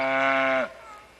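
A mother cow on a farm gives one loud, close, drawn-out low call that cuts off abruptly, leaving faint background noise.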